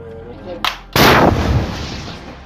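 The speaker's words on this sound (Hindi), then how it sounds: "अल-कासिम के लड़ाके एक बार में कई मिसाइलें एक साथ धड़ाधड़ फायर करने लगते हैं" Anti-tank guided missiles launched by Al-Qassam fighters during an IDF attack in Rafah: a short sharp report, then a loud heavy blast that rolls off into a long rumbling tail, close and powerful.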